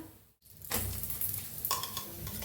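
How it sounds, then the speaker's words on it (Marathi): A steady, soft sizzle of puran poli roasting in ghee on a pan, continuous after a brief gap, with a few light scrapes or stirs near the end. "छान तूप लावून घ्यायचं आणि दोन्ही साईडनी छान असं भाजून घेऊया आपण पोळीला"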